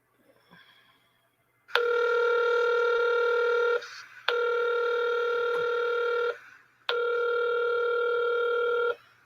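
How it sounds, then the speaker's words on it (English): A recorded phone call rings out on the line: three long, loud, steady buzzing ring tones separated by short gaps, preceded by faint handling noise, with no talk over the rings. "That's where I called Leslie."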